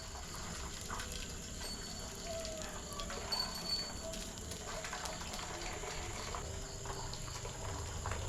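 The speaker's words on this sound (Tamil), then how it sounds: "சாப்பாடு வந்து நல்லா கொதிச்சிட்டு இருக்குது" Rice bubbles in a pot of water on a home stove for dinner, a soft continuous simmering hiss and gurgle, faint and steady, with no voices.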